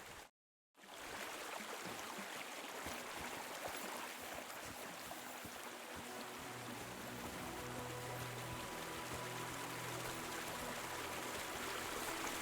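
Water rushes steadily through a cellar in Kingdom Come: Deliverance 2, a continuous close gushing flow that begins after a brief moment of silence and carries on alone.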